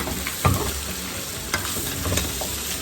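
Masala paste being stirred into frying mutton for dum pukht, a steady close sizzle broken by a few scraping stir strokes, with no talk.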